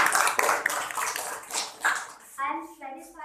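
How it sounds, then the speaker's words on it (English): Applause from a small student discussion group, a burst of clapping in the first two seconds, then speech takes over near the end. "Loudly clapping for Angel."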